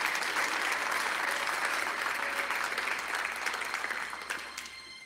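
A church congregation applauds and cheers in praise of God, a dense, steady wash of many hands clapping that carries on for several seconds and thins slightly toward the end.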